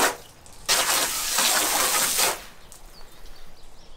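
A strong jet of water from a hose nozzle blasts across a LEER 100XR camper shell on a pickup truck for about two seconds, loud and hissing, then cuts off, leaving quiet drips and splashes.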